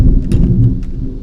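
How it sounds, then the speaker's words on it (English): Heavy rain pours steadily while a deep, loud rumble of thunder rolls underneath, dense and continuous without pause. "and it is raining and that's thunder"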